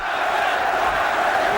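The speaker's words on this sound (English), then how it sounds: "Now the crowd begins to implore Tyson" A boxing arena crowd at a Mike Tyson fight roars and shouts in a loud, sustained wash of massed voices, steady throughout without clear individual words.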